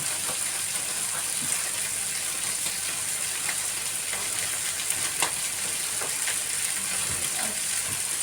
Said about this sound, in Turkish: Ben onları kızartacağım